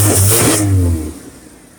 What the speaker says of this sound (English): This is how the car sounds now without the cherry exhaust. Get a little bit of gas.